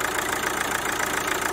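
A Kia/Hyundai 2.0 CRDi diesel idles warm at about 90 degrees after its injector was removed, seat cleaned and refitted, giving a steady close-up clatter with a fast, even knock.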